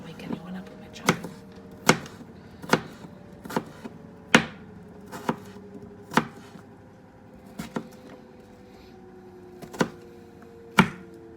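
Knife chopping food on a cutting board for shrimp ceviche: sharp, irregular thuds spaced about a second apart, fairly close, over a steady low mechanical hum.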